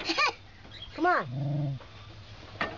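A 21-month-old toddler imitates a dog, giving a few short yelping barks with rising and falling pitch, separated by brief pauses, fairly close.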